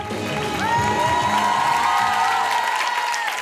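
A crowd at a Café de la Gare show applauds and cheers, with whoops and a sustained whistle-like cry rising over steady clapping.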